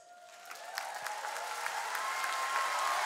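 Applause from a large audience at a school district employee convocation, dense steady clapping that swells and builds over a few seconds, with faint crowd murmur beneath.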